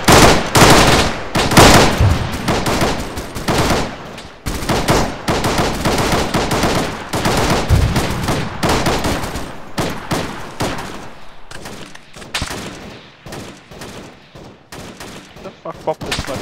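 Heavy gunfire in the military shooter ARMA 3, loud sustained machine-gun bursts and rapid shots hammering close by, thinning into scattered shots toward the end, with radio-style voices talking underneath.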